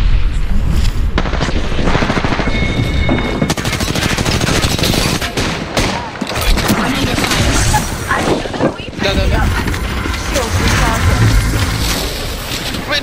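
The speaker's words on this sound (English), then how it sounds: "Grenade incoming." Grenade blasts and rapid automatic gunfire in a team shooter video game, a loud dense barrage of booms and bursts with no pause.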